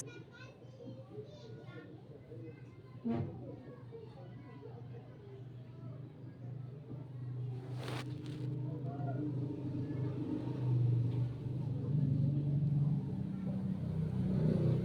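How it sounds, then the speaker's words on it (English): A BMW car pulls up smoothly to the curb with a low, steady engine rumble that rises slightly, heard at a moderate distance against quiet street ambience with children's voices in the background. "a BMW pulled up smoothly to the curb"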